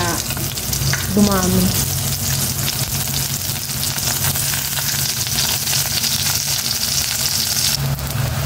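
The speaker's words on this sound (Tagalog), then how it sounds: "Preto ko naman itong nag-iisang talong." Eggplant pieces fry in a pan with a steady, close sizzle and crackle that runs throughout, with a brief voice early on.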